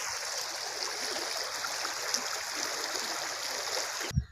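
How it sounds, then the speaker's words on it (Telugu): Fast-flowing water in a village canal rushes in a steady, dense wash throughout, fairly close and unbroken, ending with a brief bump of handling noise. "ఊరు జలజల పారుతున్న కాలువ అన్నమాట. చూడండి ఎంత వాటర్ ఫ్లో ఎలా పోతుందో"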